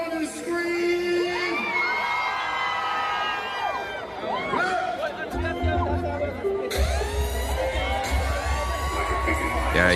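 At a jazz and arts festival in Saint Lucia, a large crowd of women screams and cheers on cue, shrill whoops rising over music, with a loud burst of cheering midway through.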